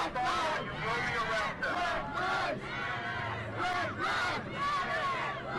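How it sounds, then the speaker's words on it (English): A protest crowd at a Black Lives Matter demonstration, after a dispersal order, chants loudly and continuously. Many voices rise and fall together in a steady rhythmic chant. "So you hear the crowd again chanting at what's happening."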